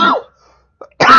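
A short, close cough bursts out in the Robocop video game, followed after a brief silence by a second harsh, throaty burst.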